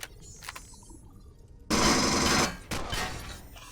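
Automatic gunfire from a gun emplacement in Empyrion Galactic Survival, a loud sustained burst that breaks in after a quiet stretch, pauses briefly, then resumes for a second volley.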